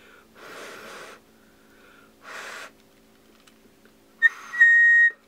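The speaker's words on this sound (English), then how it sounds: "Well, that's a whistle." A toy penguin gadget lets out a few breathy, airy whistle-like blasts, two short puffs and then a final steadier, higher tone. They sound close and distinct against near silence.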